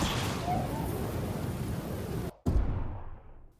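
Batmobile boost and trail effect from the 2016 Rocket League video game, a loud sustained rushing, roaring whoosh that cuts out abruptly, then a short heavy burst that fades to quiet.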